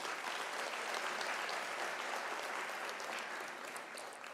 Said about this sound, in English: Can we give a round of applause to our academia?